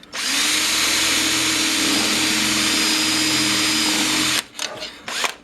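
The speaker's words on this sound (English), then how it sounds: "So we need to widen that out. And that's what we got our drill for." A power drill whines steadily at close range as it widens a hole in a chrome GMC emblem, then cuts off, leaving a few short handling clunks.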